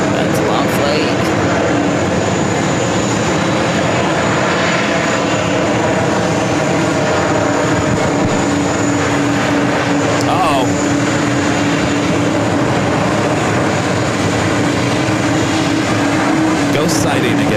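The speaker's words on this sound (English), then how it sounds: "Qantas. 787-9 Dreamliner coming in from Auckland." Qantas Boeing 787-9 Dreamliner arriving from Auckland at JFK, a continuous loud jet engine roar with a steady tonal hum held throughout, while a person talks over it.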